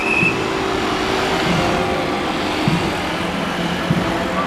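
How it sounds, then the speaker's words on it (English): A bus rolls through a city street in Valencia, heard from on board as a steady, loud engine and road rumble with faint rattles and no talking. "This is the bus that's going to take us back to the ship going through the new portage."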